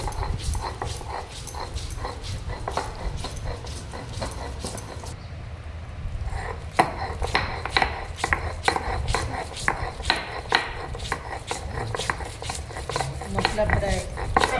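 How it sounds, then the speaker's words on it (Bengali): Spice and coconut paste ground by hand on a stone slab for a prawn and coconut curry, with repeated rhythmic rasping, scraping strokes close by and no talk. "আমার বৌমা শিলে মশলা নারকেল পেস্ট বানাচ্ছে"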